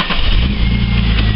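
A car engine idling steadily after being started, with the alternator charging during a battery and charging system test; a continuous low rumble, close and fairly loud throughout, with no talk.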